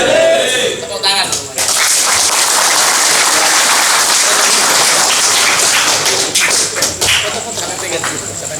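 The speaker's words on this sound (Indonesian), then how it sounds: "Tepuk tangan." Applause from the crowd at a nighttime Ansor Banser gathering in Mimika, a loud, dense, sustained patter of clapping that runs for several seconds after a brief voice at the start.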